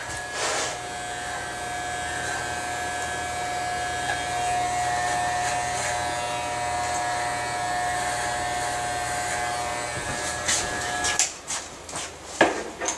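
Electric trimmer trimming eyebrows during a flattop haircut, a steady close buzzing hum that runs for about eleven seconds before stopping, followed by a few handling clicks and taps.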